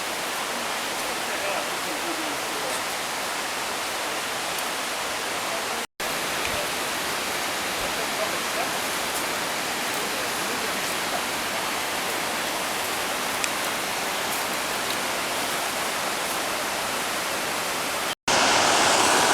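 A waterfall near George Creek in the mountains, a steady, loud broadband rush of falling water heard close by, unbroken apart from two brief cuts.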